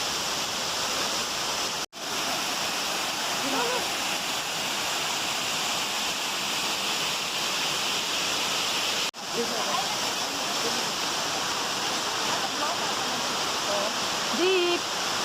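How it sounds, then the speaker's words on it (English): Lhasa Falls, a waterfall, pours in a steady, dense broadband roar throughout, close and constant, with faint voices barely audible beneath the rushing water and two brief dropouts. "I'll show you waterfalls."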